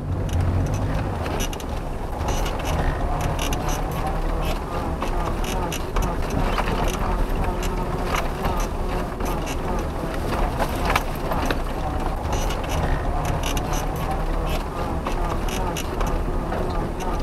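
A car creeps slowly over a bumpy, tussocky meadow, its engine rumbling steadily with rattles and knocks from the uneven ground. Continuous and close throughout, with a voice talking over the driving.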